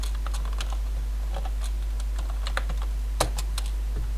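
Quick, irregular clicks of fingers typing on a computer keyboard, close and fairly crisp, with one louder key strike near the end and no voices.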